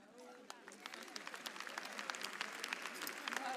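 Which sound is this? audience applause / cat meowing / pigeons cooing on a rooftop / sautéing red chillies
audience applause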